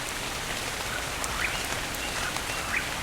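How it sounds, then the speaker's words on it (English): Steady rain falls in the video game Ark, a constant soft hiss of droplets with a couple of faint chirps, no voices. "Like right now, it's raining."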